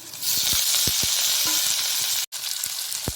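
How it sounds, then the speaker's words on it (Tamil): Onion sautéing in a pan gives a loud, steady close hiss, with soft spatula scrapes now and then and a brief drop to near-silence partway through. "ஆனியன் வந்து கொஞ்சம் லைட்டாக வதங்கினா போதும் ரொம்ப வதங்க தேவையில்லை"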